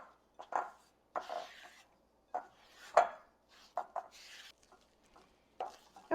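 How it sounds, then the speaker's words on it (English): Flour is folded into madeleine batter in a bowl, heard as a series of irregular soft scrapes and muffled knocks of a utensil against the bowl, close and quiet, with pauses between strokes. "And now we're just going to fold that mixture in. Fold that flour in."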